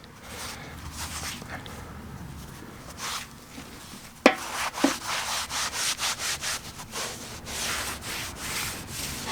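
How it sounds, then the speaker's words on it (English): A cloth rubs solvent over engine surfaces in a quick series of wiping strokes, close and fairly loud, with a sharp knock partway through. "wipe it down really good"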